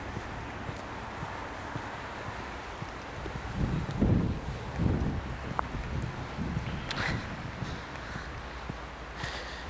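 Gusty wind buffets the microphone outdoors on Cape Cod's Route 6 highway on a sunny snow day, with a low rumbling roar that swells in the middle and eases again.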